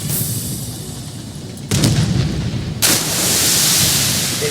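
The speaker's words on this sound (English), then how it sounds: "Rocket boost, baby." A rocket boost in the TMNT Shred Tread video game kicks in with a sudden loud whooshing roar, cuts out, then surges again into a sustained rushing blast after a low engine rumble.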